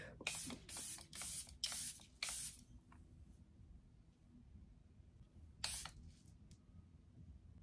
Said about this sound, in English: You're going to take your Charlotte Tilbury setting spray.